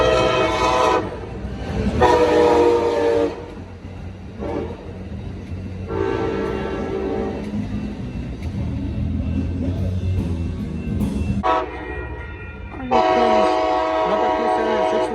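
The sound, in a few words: Coaster commuter train passing southbound, Oceanside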